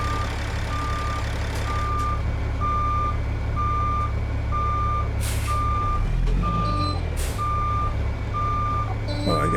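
Reversing alarm on a truck in American Truck Simulator, beeping in a steady evenly spaced rhythm over a constant low engine rumble, with a couple of brief hissing bursts partway through.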